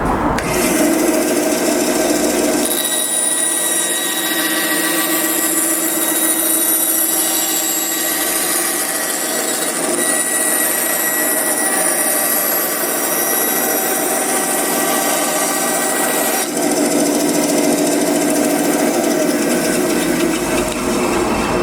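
Record Power BS 250 bandsaw with a wide blade cutting a curve in wood, fence removed: a loud, continuous close rasping buzz of blade through timber that swells after a quieter start and shifts tone near the end, no speech.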